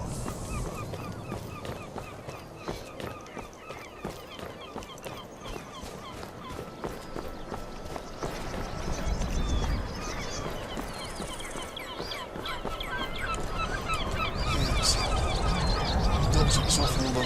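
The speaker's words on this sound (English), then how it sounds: "Oh, birds." Birds honk repeatedly around a busy video game town, Windhelm, mixed with hoofbeat-like clatter and ambient bustle; a voice speaks faintly under the din, which grows louder toward the end.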